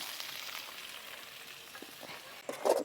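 Chopped medium tomatoes go into hot oil with softened onions and fry, a continuous soft sizzle with faint stirring scrapes and a louder clatter near the end.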